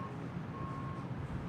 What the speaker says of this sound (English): You can hear that beeping. Something goes reversing.